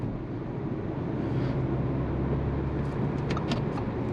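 Turbocharged car engine with an aftermarket intake, heard from inside during gentle around-town driving; a steady low engine drone with faint airy whooshes near the end, and no talking.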